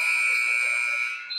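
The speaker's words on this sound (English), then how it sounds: "A buzzer beater dunk by Basama" A high school basketball game's end-of-period buzzer sounds as a steady, loud electronic tone held for over a second before cutting off.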